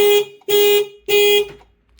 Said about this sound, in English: And that's the alarm going off here.